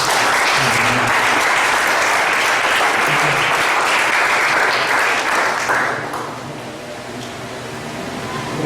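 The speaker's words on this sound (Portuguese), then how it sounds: "A igreja aplauda Jesus" Worshippers in a Brazilian church service applaud Jesus in a loud, continuous wash of clapping that holds strong for about six seconds, then quickly thins out and fades.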